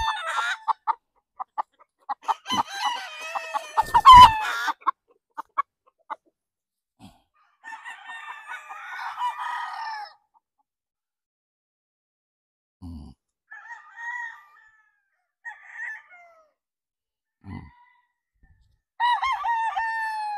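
A white Kelso cross cockerel about six months old crows near the start, with scattered clucks and other fowl calls following among quiet gaps on a poultry farm, and another crow at the end.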